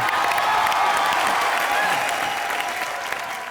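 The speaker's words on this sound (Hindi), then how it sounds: "प्रभु सर के लिए जोरदार तालियां हो जाए।" A studio audience on the comedy show Comedy Nights Bachao applauds loudly and steadily, a dense wash of clapping that stays full for the whole stretch and eases only slightly near the end.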